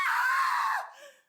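A woman screams loudly and alone in a sustained high cry, trailing off into a brief fainter wail, set in an 1877 small-town scene.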